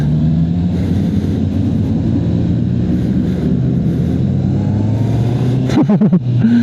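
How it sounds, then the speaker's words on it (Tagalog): A Honda CB650R E-Clutch motorcycle engine runs loud and close, its steady drone rising in pitch, then sharp rapid revs near the end. "Enjoy gamitin guys tong CB650R yung Honda na e-clutch guys."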